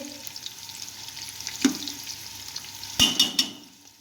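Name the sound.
onions frying golden in oil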